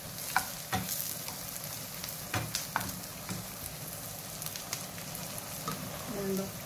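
Green chilies and onions sauté in a pan for a spinach and lentil curry, giving a continuous close sizzle broken by frequent scrapes and taps of a stirring spoon, with no one speaking.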